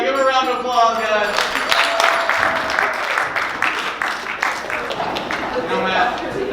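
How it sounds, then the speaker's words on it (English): Audience applause at a Valentine's Day special stage performance, dense clapping that runs steadily through the whole stretch at a fairly loud, even level, with some voices mixed in. "give a round of applause, guys"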